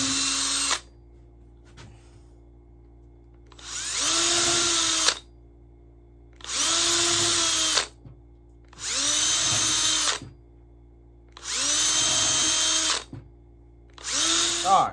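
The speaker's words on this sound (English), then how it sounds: "I'm taking like a 5/64 drill bit, and that is what I am going through these holes." Power drill with a 5/64 bit boring holes for a knife sheath: five or six whining bursts of a few seconds each, separated by short silences, close and loud with no speech.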